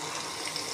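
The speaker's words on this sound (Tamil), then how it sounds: "இப்போது தேவையான அளவுக்கு தண்ணி ஊற்றிட்டோம்." Water is poured into a mutton urundai kolambu curry, a brief steady gushing splash heard alone at close range.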